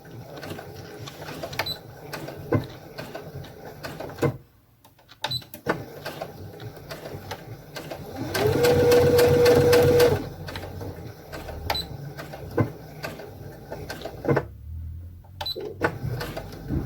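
A Brother Innov-is F420 sewing machine runs one short, loud burst of reinforcement stitching, set between quiet clicks and handling noises at a tabletop.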